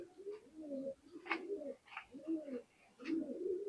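A Teddy pigeon, a Pakistani high-flying breed, coos softly and nearby in several low, rolling phrases with short pauses between them.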